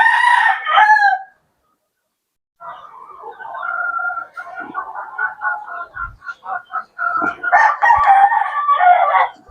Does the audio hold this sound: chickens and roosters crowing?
yes